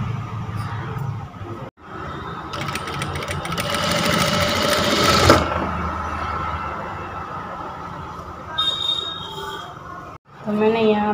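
A sewing machine runs steadily for several seconds, stitching along a folded fabric hem for a circular palazzo, loud and close, then stops with quiet handling sounds.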